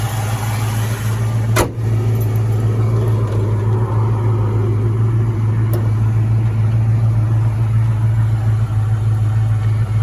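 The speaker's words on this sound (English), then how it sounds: "The engine sounds smooth." Close, loud 351 V8 engine of a 1969 Ford Mustang Mach 1 idling with a steady low rumble, broken by a couple of sharp clicks.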